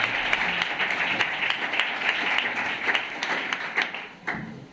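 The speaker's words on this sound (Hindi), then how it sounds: "ताली का हम स्वागत करू।" A congregation at a church wedding service claps in sustained applause, with some sharper individual claps standing out and a brief voice at the end.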